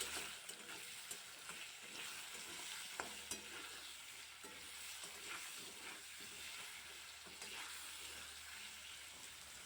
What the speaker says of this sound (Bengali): এবার আলুগুলোকে সুন্দর করে একটু ভেজে নেব।